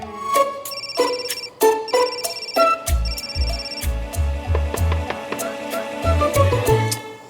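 Repeated electronic phone ringtone with bright chiming tones, sounding in bursts alongside background music and low thumps in a domestic scene from the Hindi TV drama Ek Duje Ke Vaaste 3; no speech.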